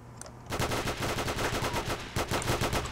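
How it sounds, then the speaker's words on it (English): Machine gun fire in the Blockland video game, a trench team battle: after a brief quiet start, long rapid bursts of loud close gunfire rattle almost without pause to the end. "Time for a machine gun skirmish."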